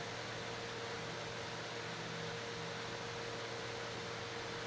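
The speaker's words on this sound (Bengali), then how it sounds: "এটা হচ্ছে ডিস্ক টাইপ অয়েল স্কিমার" A disc type oil skimmer machine runs steadily beside a reservoir tank, giving a constant broadband mechanical whir with a faint tonal hum and no changes throughout.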